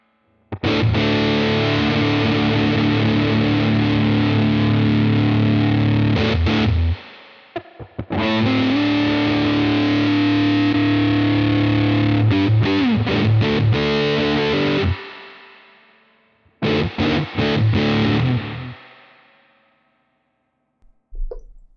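Electric guitar run through a UAD Paradise rig and a Helix Stadium reverb effect, played in three loud, distorted bursts with long washy tails, separated by short pauses.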